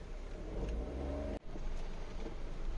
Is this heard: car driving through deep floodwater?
yes